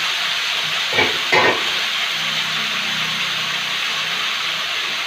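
Broccoli curry ingredients lightly frying in a pan, a constant close sizzle and hiss with a couple of brief scraping stirs early on.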